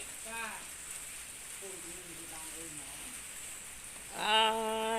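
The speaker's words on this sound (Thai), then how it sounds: "ฝนตกแล้ว" Steady, faint rain hisses continuously in the background, with a couple of brief voices cutting through near the start and end.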